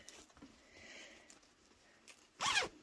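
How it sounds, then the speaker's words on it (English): A zipper closing along a new computer tote bag, one quick bright zip rasp near the end after some quiet handling rustles. "Doing zippers is a little bit hard."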